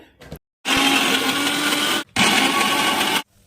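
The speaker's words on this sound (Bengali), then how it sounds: "ভালো করে সেকে নিয়ে মিক্সিতে ভালোভাবে এটাকে পেস্ট করে নিতে হবে" A mixer grinder whirs loudly in two bursts of about a second and a half each, grinding soaked chana dal into a paste, with short silences between runs.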